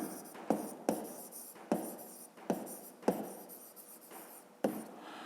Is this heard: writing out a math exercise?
yes